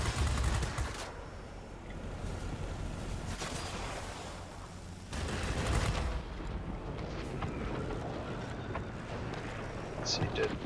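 Sustained machine gun fire from aircraft guns in World of Warplanes, with a Japanese Kawasaki Ki-61 Hien fighter in the fight, running as a dense, steady rattle with engine roar for the whole stretch and a louder burst midway.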